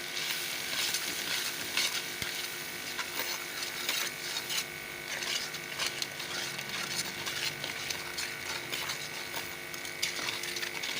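Masala with tinda fries in a pan with turmeric, korma masala and chicken masala, giving a steady close sizzle broken by scraping stirs from a spoon against the pan.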